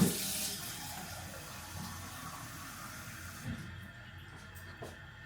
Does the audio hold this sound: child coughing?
no